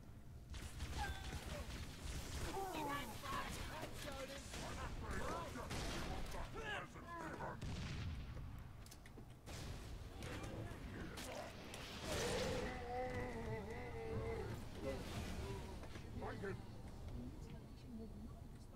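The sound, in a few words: gunfire from enemies in the video game Halo 3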